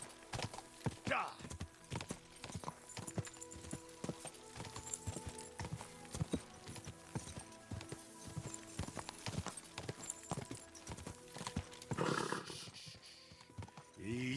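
Horse hooves clip-clop in a steady, quick rhythm throughout a ride in Kingdom Come: Deliverance 2, layered with game ambience and brief voice sounds near the start and end.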